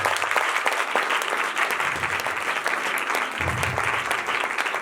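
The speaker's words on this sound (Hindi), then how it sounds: "जोरदार ताली बजाएं।" Audience applause at a church sermon, a dense steady burst of many hands clapping that fills the room, loud and continuous, with a voice faintly speaking underneath at moments.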